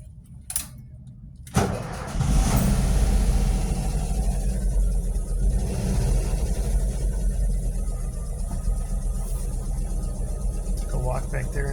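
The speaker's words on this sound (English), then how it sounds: "Let's start it up." A 1978 VW Bus engine cranks briefly and catches, then settles into a steady, loud rumbling idle close by, with a person talking over it.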